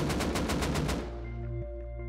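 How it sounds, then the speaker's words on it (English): An AK rifle fires a rapid burst of about eight evenly spaced shots in the video game Rust, loud and close, then cuts off into a ringing tail and low hum. "I eagerly put that on and started excitedly firing rounds off"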